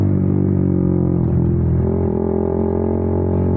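A motorcycle fitted with a WRX Trioval K2 aftermarket exhaust idles and revs loudly up close, a deep throbbing engine note with a slight rise in pitch midway before settling back.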